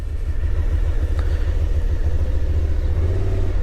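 A 2022 Suzuki SV650 LAMS motorcycle engine during slow speed maneuvering makes a steady, close, low throbbing rumble that holds an even level throughout, with no talking.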